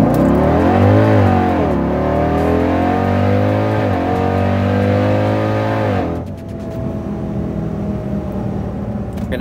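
An 1100 horsepower Jeep Grand Cherokee Trackhawk roars through a hard full-throttle pull, its loud engine note climbing steadily through several gear changes before easing off into a lower steady drone, close and with no talk.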